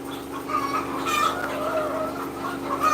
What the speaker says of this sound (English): Yeah, of course, lots of chickens.